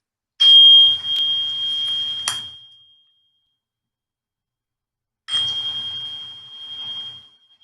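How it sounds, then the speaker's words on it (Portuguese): A small hand bell rung twice, each ring a bright metallic jingle of about two seconds that fades out, with silence between the two rings. "a hora que eu tocar o sininho"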